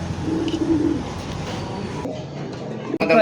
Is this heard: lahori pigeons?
yes